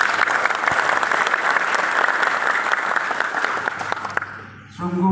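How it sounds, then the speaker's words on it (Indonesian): An audience at a large political gathering in Cibubur breaks into sustained, dense applause, loud and steady for about four seconds before it fades and a voice begins. "Tepuk tangan untuk kita semua."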